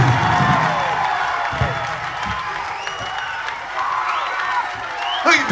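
Live concert crowd at a rock show at the Capitol Theatre, New York, cheering and applauding continuously with scattered whoops, a dense steady roar throughout.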